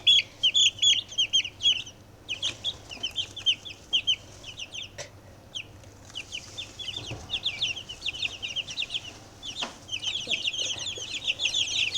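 Chickens and chicks in a sawdust-lined cage cluck and peep almost continuously, with rapid, repeated, fairly close calls that rise and fall in bursts, and no talking.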